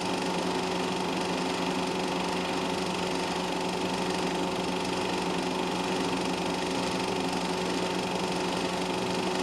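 Vintage racing cars, an MGA and a Turner in an F production race, roar past in a dense, unbroken engine drone that holds steady and loud throughout.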